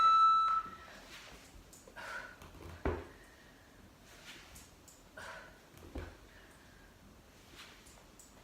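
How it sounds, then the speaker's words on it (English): Short electronic workout timer beeps sound at intervals over a quiet background, with faint thumps and movement between them. "when the beeps go, we'll change legs"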